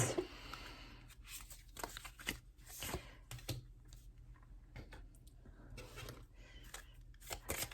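Tarot cards are shuffled by hand close by, a quiet run of irregular papery clicks and soft riffling flutters spread across several seconds, with no voice over it.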